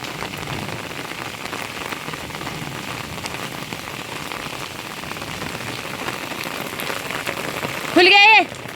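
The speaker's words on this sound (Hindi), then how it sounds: "ये मेरे घर का झरना है देखो" Continuous rushing water from a waterfall beside a mountain home in rainy weather, a dense steady wash throughout, with a short burst of a voice near the end.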